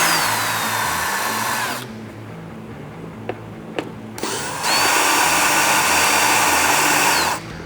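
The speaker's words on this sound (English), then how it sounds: "you want to go ahead and remove 2 fairing screws on this side, the 2 fairing screws on this side" Cordless power drill backing out T27 fairing screws on a motorcycle, two loud close bursts of whirring with a quieter gap between them holding light clicks and taps.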